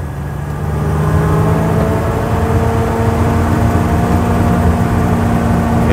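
A 1958 Ford Thames 400E bakery van engine runs on the road, a loud, steady mid-pitched drone with a whirring gear tone and slight rise in revs, heard close inside the cab with no talk.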